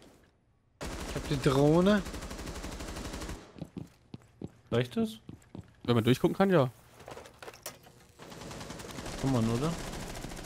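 Gunfire from the video game Rainbow Six Siege, loud rapid bursts and single shots fired through a wall, cutting in between stretches of close German conversation among players.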